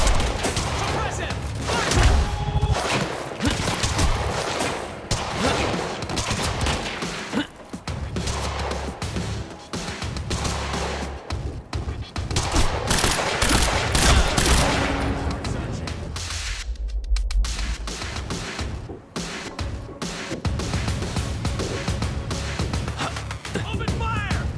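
A sustained firefight in the video game Quantum Break, with dense, continuous gunfire and bursts layered over combat noise for nearly half a minute, broken by a brief lull, with voices shouting under the shooting.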